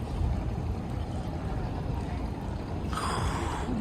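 Large passenger launches at the Dhaka Sadarghat river terminal produce a steady, heavy low rumble with a broad wash of noise, a slight rise in hiss near the end, no distinct individual events.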